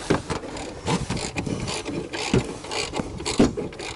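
Quick bursts of ratchet clicking tighten the center mount bolt on an SRT4, several short runs of pawl clatter up close with brief pauses between.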